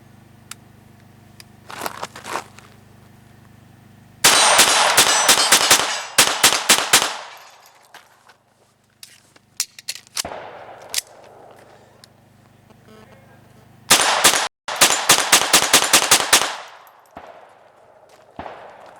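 A Sig Mosquito .22 Long Rifle pistol, dirty from hard use, fires in two rapid strings of sharp, close cracks, with quieter handling noises and pauses between the volleys.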